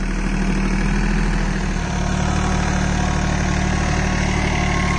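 A Swaraj Target 630 4WD mini tractor's small engine idles loudly and steadily up close, a continuous chugging rumble with constant vibration and no pauses.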